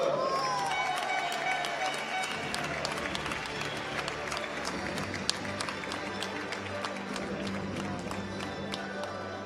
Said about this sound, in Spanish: Sisplau, fort aplaudiment per Dan Nicole!